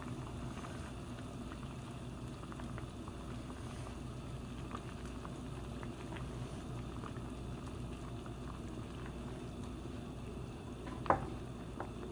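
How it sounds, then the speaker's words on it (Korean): Kimchi bean sprout soup simmering in a pot over lowered heat, a steady soft bubbling and hiss that runs evenly throughout, close and fairly quiet, with one brief clink near the end. "약간 줄여서 한 3, 4분 정도 더 끓여줄게요"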